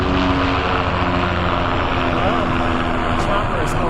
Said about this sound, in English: We've got overhead choppers.